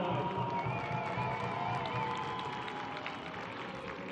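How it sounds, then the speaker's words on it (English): A stadium crowd at a USL League One final applauds and cheers, a steady broad wash of clapping heard from a distance under faint noise. "Please give yourself a round of applause."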